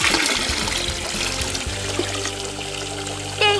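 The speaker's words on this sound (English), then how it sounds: "let's give her a little bit more warm water" Warm water pouring into a toy bathtub, a close steady trickling and splashing stream that runs continuously with no talking.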